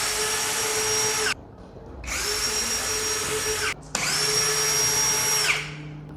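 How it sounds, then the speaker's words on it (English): Three separate bursts of a power screwdriver whirring close by, with short pauses between them, as it removes screws from the battery cover of a JK200 DIY kit. "Now we remove the 3 screws of the batteries."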